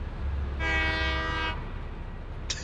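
A full oil train in the video game Satisfactory sounds its horn, one steady sustained blast lasting about a second over a low rumbling hum of rolling wheels.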